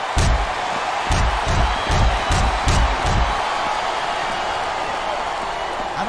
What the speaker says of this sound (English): It sounds like this capacity crowd has something on their mind, Taz.